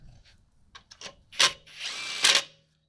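Impact gun spinning lug nuts onto the wheel of a lifted 2020 Silverado 6.6 Duramax 4x4: scattered short clicks, then two loud close bursts of rattling whir, the second a sustained run of about a second ending in a hard hammering burst.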